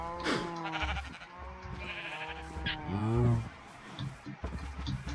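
Minecraft sheep bleat a couple of times amid other farm-animal game sounds, moderately loud and near, with some faint voice-like noise mixed in.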